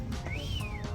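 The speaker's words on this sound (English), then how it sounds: "Male boobies whistle." A male booby on Española Island, Galápagos, gives a single thin whistle that rises then falls, faint against a low background hum.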